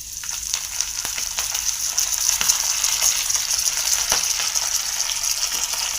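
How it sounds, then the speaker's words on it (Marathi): Fish sizzling in hot oil in a pan, a steady bright crackle with scattered pops throughout, close and fairly loud, no voices. "तेल चांगलं गरम झालं की आपल्याला ह्याच्यामध्ये फिश टाकायचे."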